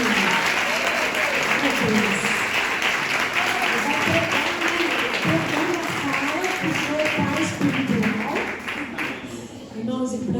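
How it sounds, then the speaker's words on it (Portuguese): A church congregation applauds loudly and continuously, a dense wash of clapping, while a preacher's voice speaks over it throughout. "Você pode aplaudir a Jesus?"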